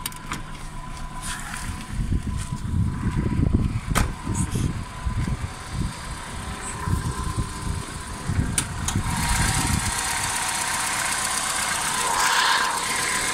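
A Toyota Camry 80 engine runs at a steady idle, a low rumbling hum with faint irregular knocking pulses, heard close up with some background hiss.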